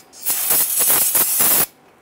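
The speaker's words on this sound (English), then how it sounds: "We're going to go ahead and spray that with some solvent." Solvent sprayed from an aerosol can onto a brake caliper of a 1994–2004 Ford Mustang, a loud close hiss of several quick pulsing bursts lasting about a second and a half.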